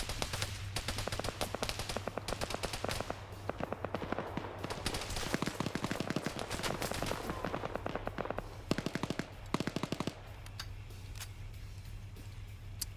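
Automatic weapon fire in a PvP military shooter match, with sustained rapid bursts of gunshots crackling almost continuously, some near and loud, others thinner, with brief pauses between volleys.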